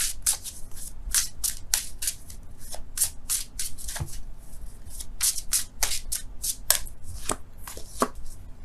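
Tarot cards shuffled and drawn by hand, with a quick, steady run of crisp, close card slaps and riffles, nearly continuous for several seconds with no talking.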